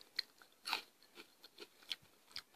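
Someone biting into a limited-edition cinnamon vanilla Lucky Charms marshmallow: faint, close crunchy bites and chewing in short irregular bursts, with no talking.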